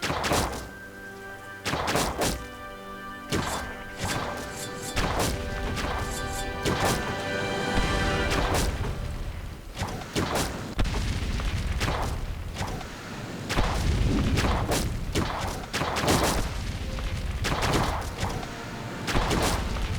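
Castle under siege and being destroyed in the Defenders of Ardania strategy game: a continuous barrage of loud crashes, smashes and impacts, many rapid hits over a busy background with no speech.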